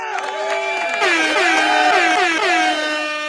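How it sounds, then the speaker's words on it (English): Several air horns blare together in overlapping, wavering blasts, loud and close, with faint crowd noise mixed underneath, on a podcast. "You got the air horn."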